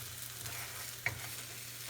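An omelet cooks in a cast iron pan with a faint, even sizzle and one brief tap of a utensil midway.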